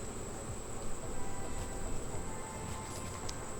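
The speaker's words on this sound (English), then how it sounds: "there's a bee on my hand and by my face" Honeybees buzzing around a newly installed backyard beehive, a steady close swarm hum with a faint high whine, continuous and fairly loud without speech.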